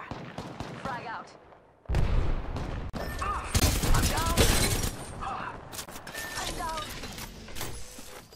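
Explosions from an arc star and a frag grenade in the Apex Legends video game, loud repeated bursts and crackling blasts from about two seconds on, over busy mechanical game sounds and chatter.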